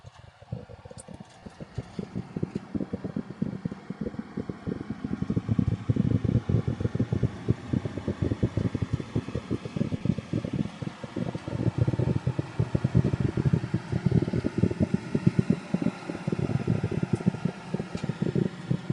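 Cabin noise inside a five-speed four-wheel-drive Daihatsu cruising at highway speed around 62 mph: a steady roar of road and wind with a low, fluttering rumble throughout and no talk.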